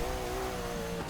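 Porsche 356A Speedster engine accelerating in Forza Motorsport 6, a steady, droning mid-pitched engine tone held at a constant level for about a second, close and without talk.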